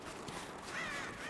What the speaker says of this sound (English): Fucking crow, get out of here.